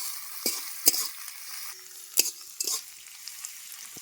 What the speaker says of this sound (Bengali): পেঁয়াজ আর রসুন ভালো করে ভেজে নেবো তেলের মধ্যে